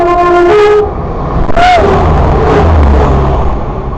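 A diesel multiple unit train, likely a Turbostar, rumbles past close by at Hessle with a loud, steady engine roar, a brief horn-like tone sounding over the noise.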